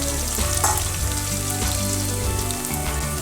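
Onions sauté in a pan for egg biryani, giving a close, continuous sizzle and crackle with light stirring noises and no talk.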